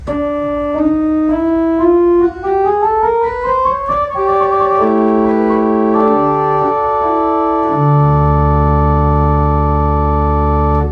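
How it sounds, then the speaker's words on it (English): A pipe organ on the open diapason stop plays a rising melodic line, then settles into sustained chords ending on a deep, held bass note, full and steady, no talking. "I assume this is open diapason 1, and it sounds like this."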